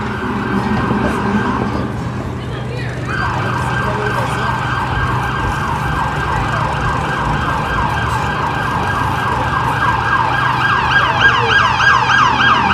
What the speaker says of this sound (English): We certainly have a whole lot of sirens back there.